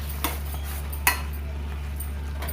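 Red gongura chutney fries in oil in a pan, with a couple of sharp utensil clinks against the pan from stirring over a steady low hum; no voices.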